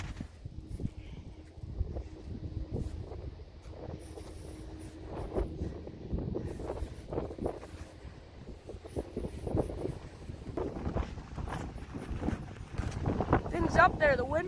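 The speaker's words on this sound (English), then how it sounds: "the wind's going pretty hard. Wow, you can hear it." Strong wind gusts against the microphone while a kite is flown from a fishing pole outdoors, a rough, buffeting roar that rises and falls throughout. People talk over it now and then.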